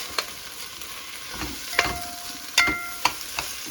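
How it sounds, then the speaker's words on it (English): Spicy peppers frying in a pan with rice, a soft steady sizzle broken by a few sharp stirring clinks and scrapes, no voices. "So see now, they're all going to fry up into the rice and season it."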